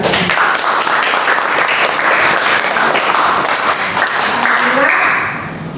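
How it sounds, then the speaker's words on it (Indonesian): Classroom applause during a micro-teaching session: a dense, steady burst of many hands clapping together for about five seconds, close and loud, then tapering off quickly at the end. "tepuk tangan untuk kita."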